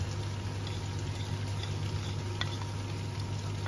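Chilli paneer frying briefly in a pan, a soft steady sizzle with faint crackles and stirring, quiet and close with no talking.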